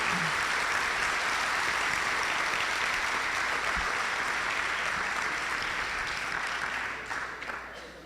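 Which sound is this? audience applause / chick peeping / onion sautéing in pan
audience applause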